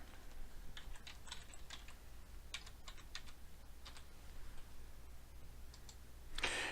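Quick, light keystrokes on a computer keyboard as a password is typed to log in to an online registration page, coming in short irregular bursts over a quiet background hum.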